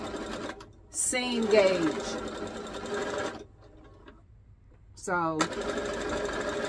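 A sewing machine stitching fishing line into organza fabric runs in short bursts of rapid mechanical chatter, with a quiet pause between runs. Someone talks over the stitching.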